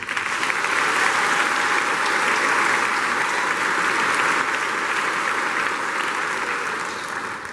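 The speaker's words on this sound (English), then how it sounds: "Let's give a round of applause to our 93 graduates." Steady applause from families and guests at a STEM academy graduation for 93 graduates, a thick, even roar of clapping sustained for over seven seconds and easing slightly at the close.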